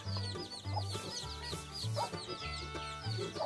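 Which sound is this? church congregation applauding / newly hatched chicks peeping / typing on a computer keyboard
newly hatched chicks peeping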